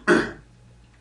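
A single harsh cough from a sick man, close and loud, dying away quickly before a brief faint sound at the end.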